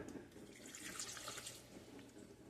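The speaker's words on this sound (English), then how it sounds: "So we're going to add our cup of water here" A cup of water poured into a pot of calamondins for marmalade, a fluttering, splashy trickle that rises and falls over a couple of seconds, fairly close and quiet.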